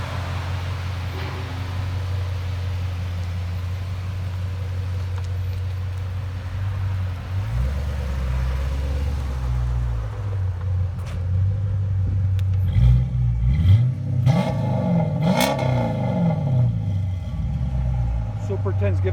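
A 2015 Dodge Challenger R/T with a 5.7L HEMI V8, cold air intake and Flowmaster Super 10 dual exhaust idles with a steady low rumble, then gives a few sharper revs toward the end.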